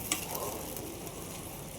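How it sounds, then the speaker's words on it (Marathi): Water poured into sautéed cabbage Manchurian gravy sizzles in the pan, a steady broadband frying hiss that holds evenly throughout with no talking. "परतल्यानंतर यामध्ये मी जवळपास एक ग्लास पाणी ॲड करते"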